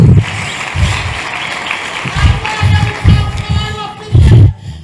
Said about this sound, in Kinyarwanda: Komera Imana amashyi ku bwa mushumba.